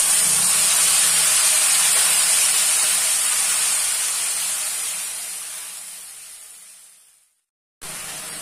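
Whole spices for a tempering sizzle in hot oil left from frying katla fish, giving a loud, steady broadband hiss that slowly fades, stops briefly, then resumes at the very end; no voices.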